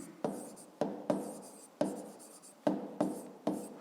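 A pen writes an explanation by hand on paper, with about seven quick scratchy strokes, each a sharp onset fading away, close and quiet.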